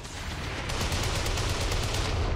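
Sustained gunfire crackles in the video game XCOM 2, a steady, dense stream of shots and rumble at moderate loudness, with no voices over it.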